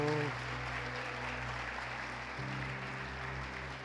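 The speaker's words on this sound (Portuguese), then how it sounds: "Pode aplaudir ao Senhor." Congregation in a church applauding together, a broad continuous clatter of many hands under sustained organ or keyboard chords and a faint voice.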